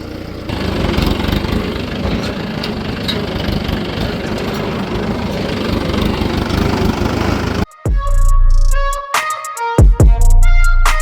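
Tractor engine running near a riverbank where the water has dropped, a loud steady mechanical drone for most of the stretch, then cutting to a few seconds of a different loud sound with tonal bursts and brief gaps.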